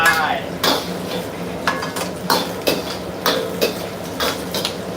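Crispy pork being stir-fried with water spinach in a pan, with repeated scraping and clanking strikes of a utensil against the metal over a steady sizzle, close and fairly loud, with no talk.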